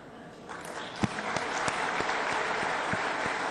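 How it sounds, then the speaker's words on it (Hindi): Thin, scattered applause from a ceremony audience, a handful of separate claps standing out over a soft, steady patter that continues throughout. "लेकिन मैं देख रहा हूं मुश्किल से तालियां बज रही हैं।"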